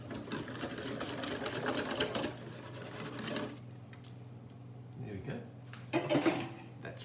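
Chickpea flatbread batter being whisked in a bowl, with a rapid, steady clatter for the first few seconds, then quieter scraping and a couple of brief clinks.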